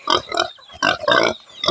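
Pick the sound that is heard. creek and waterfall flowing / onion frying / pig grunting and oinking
pig grunting and oinking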